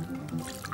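Water poured over cubed raw chicken breast in a home kitchen, a short, faint liquid splash and drip lasting under a second.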